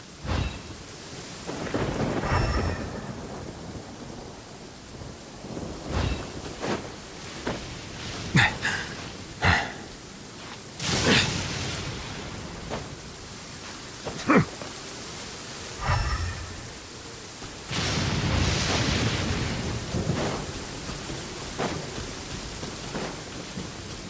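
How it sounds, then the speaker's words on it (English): Heavy rain pours steadily in the Genshin Impact game while thunder rumbles and cracks repeatedly, some claps sharp and close and others rolling longer, with no speech over it. "This heavy rain must be quite an inconvenience for you."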